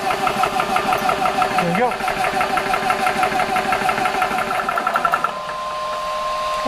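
An airgun air compressor starts up and settles into a steady mechanical hum with a fast, rhythmic chatter. A voice speaks briefly over it, and the running sound softens near the end.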